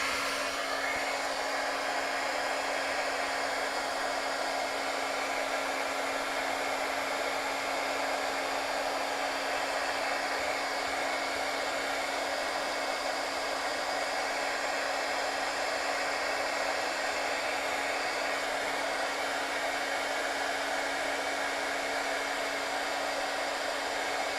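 A heat tool blows continuously and loudly at close range, melting embossing powder during heat setting; the steady whooshing hum stays unbroken for the whole stretch with no voices.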